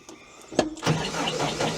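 An old auction tractor's engine cranks and catches, a sharp clunk followed by a steady rising engine run close by.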